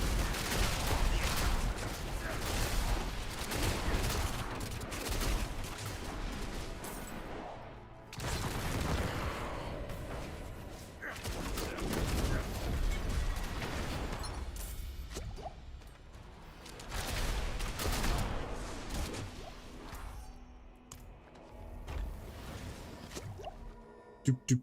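Repeated barrage of explosive artillery blasts and whooshing impacts from an artillery shrine in the Diablo 4 action game, loud dense bursts in several waves with brief lulls, mixed with game effects and some voice.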